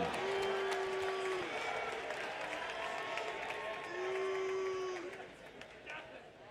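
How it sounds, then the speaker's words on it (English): A boxing weigh-in crowd cheers and applauds for a young fighter from Brooklyn, a loud, continuous wash of clapping and shouting. Sustained vocal tones ride on top of it, like an announcer's drawn-out call, and the noise stays steady throughout. "Make some noise for the young man from Brooklyn, everyone"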